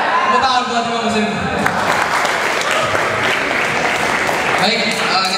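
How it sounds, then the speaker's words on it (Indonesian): Audience applause at a national occupational safety and health seminar, a steady burst of clapping filling the room, with a voice over it. "Tepuk tangan buat 5 mesin."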